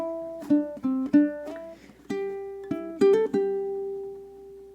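A ukulele picks a short blues solo phrase in a jam, a handful of plucked notes with quick decays, some doubled, ending on a ringing sustained note, close and clear with no talking.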